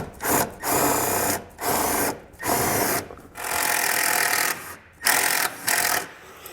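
Power drill driving a self-tapping screw into metal during a trailer wiring harness install on a 2022 Kia: repeated short bursts of motor whine and grinding, stopping and starting about every second.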